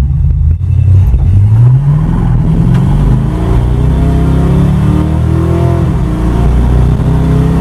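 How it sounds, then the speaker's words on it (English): A 1980 Dodge with a 318 V8 and 727 automatic transmission takes off at full throttle, the loud engine rising in pitch through the gears with audible shift points, close and continuous with no talking. "I'm going to try to get my best takeoff, see how this transmission shifts under floored condition"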